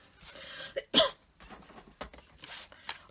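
A single sharp cough bursts out near the mic in a quiet indoor crafting setup, followed by a few softer throat sounds and small handling noises.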